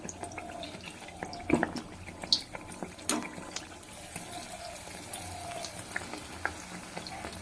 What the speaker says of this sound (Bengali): এক এক করে এইভাবে পিঠেগুলো আমি ভেজে নেবো